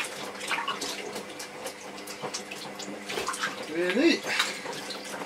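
Tap water runs steadily into a basin to rinse soap powder out of a vintage Hoover cloth vacuum bag, with splashing that swells near the end under intermittent talk.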